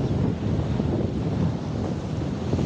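Sea waves at a beach resort: a steady low roar of surf mixed with wind buffeting the microphone, continuous and fairly loud, with no talk.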